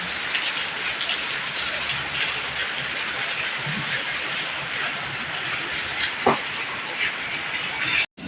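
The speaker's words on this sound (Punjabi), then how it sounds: "ਇਸ ਤਰ੍ਹਾਂ ਬਹੁਤ ਮੀਂਹ ਪੈ ਰਿਹਾ" Heavy rain pours down in a dense, constant hiss that stays loud and even throughout, with a brief louder knock near the end before it cuts off abruptly.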